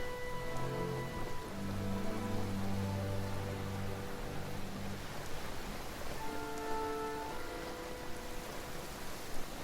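Steady rain hissing and pattering on surfaces in the video game Genshin Impact, a continuous wash of drops that runs the whole time under soft sustained musical tones.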